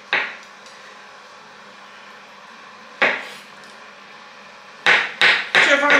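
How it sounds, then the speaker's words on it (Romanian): Knife cutting champignon mushrooms on a board for a Moldovan-style mushroom soup, with a few sharp separate chops, a single one early, one at three seconds, then a quick run of three or four near the end. "începem să tăiem ciupercile"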